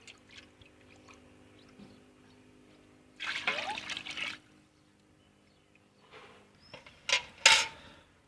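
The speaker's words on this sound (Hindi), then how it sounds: "4 किलो हमने पानी डाल दिया है" Water is poured over two kilos of rice in a pot for chicken and potato pulao, heard as two short splashing pours separated by a quiet gap, the second briefer and sharper.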